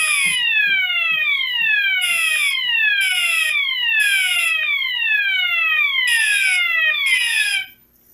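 A loud electronic fire alarm, set off by pulling a single-action pull station, sounds alone in rapid repeated downward sweeping whoops, with a faint low hum underneath, and cuts off abruptly at the end.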